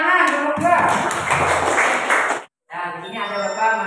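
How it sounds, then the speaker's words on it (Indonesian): Elementary school students applaud in a classroom, a burst of hand claps mixed with voices, briefly cutting out before talk and sound resume. "Ya, tepuk tangan."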